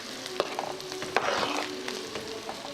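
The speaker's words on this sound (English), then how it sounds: "let's stir our fettuccine noodles" Fettuccine noodles fry and sizzle in a pan while being stirred, a steady close hiss broken by a few soft knocks of the utensil, with no voices.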